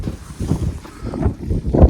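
Strong wind buffets the microphone in gusty low rumbling waves on a snowy village road beside a monastery, rising to a heavier blast near the end.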